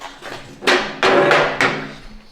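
Metal parts on an antique wood stove shift and slide back with a few loud, separate clunks and scrapes, recorded close up and without any talk.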